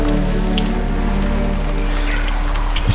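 Steady rain pattering on surfaces in the Colombian mountains, a close, continuous hiss of drops with a few louder individual drips, no voices.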